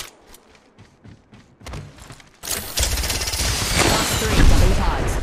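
Gunfire rattles through a fight in the video game Valkyrie, starting with sparse shots, then swelling into loud, dense bursts of automatic fire mixed with booms.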